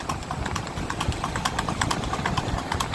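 A Sindhi horse walking shows off its gait, its hooves giving a steady, fairly close clip-clop over a busy outdoor background hum.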